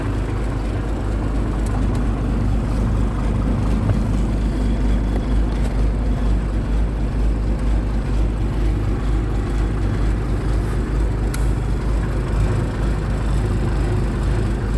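A BMC Fatih 20026 truck engine idles steadily, a deep continuous low rumble that stays even throughout, close by and with no talking.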